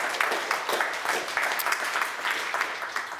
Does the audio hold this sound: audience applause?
yes